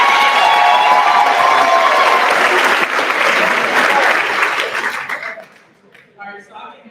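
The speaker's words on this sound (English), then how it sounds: "So let's clap it up again." Loud sustained audience applause with some cheering fills a high school graduation ceremony for the Class of 2023, then fades out over the last two seconds.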